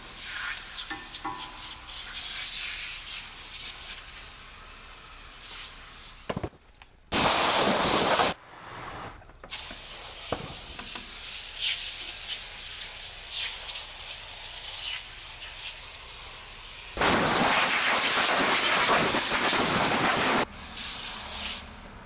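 Pressure washer spraying paint off a 2004 Peterbilt truck, a continuous loud hiss and rush of water that shifts in tone as the jet moves across surfaces, with brief cutoffs and louder bursts.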